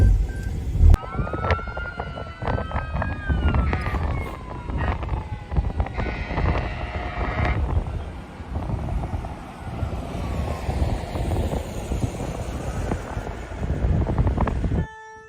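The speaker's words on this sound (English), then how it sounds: "you can hear the tornado siren blaring for yet another one close to Omaha" A tornado siren wails near Omaha, Nebraska during severe weather, its rising and falling tone running steadily for about fifteen seconds over loud wind-like rumble and noise.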